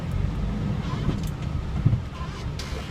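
Mercedes-Benz Sprinter W906 van with a six-speed gearbox driving along, a low steady engine and road rumble with wind noise, heard from inside the cab.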